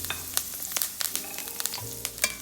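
Fresh thyme sizzles in hot oil in a pan for a steak dish, a steady crackling hiss with sharp pops scattered throughout, close and without talk.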